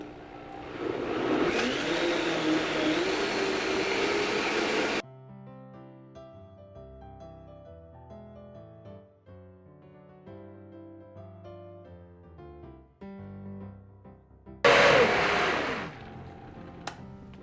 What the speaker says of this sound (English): it's gonna take a few minutes, but we're gonna blend this and get it all creamy